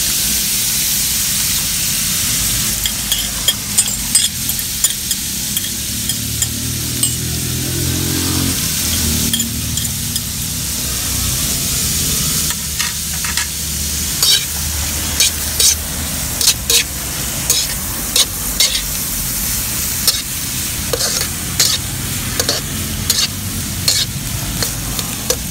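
Bitter gourd with egg fries in a pan, a constant close sizzle broken by frequent sharp scraping and clacking strokes of the spatula, loud and alone without talk.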